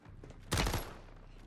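Gunfire in the video game Warzone on Rebirth Island: one sudden, sharp burst of rapid shots cuts in after a quiet moment, then tails off quickly.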